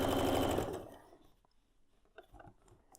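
Sewing machine stitching a seam on a bowtie quilt block, a brief loud close rattling run that stops under a second in, followed by quiet handling clicks and faint taps.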